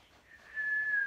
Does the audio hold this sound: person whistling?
yes